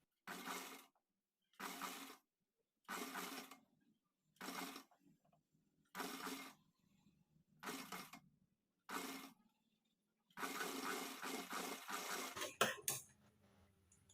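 A sewing machine stitches the piping edge of a blouse in a run of short, even bursts separated by pauses, then one longer continuous stretch, close and clear with no talking.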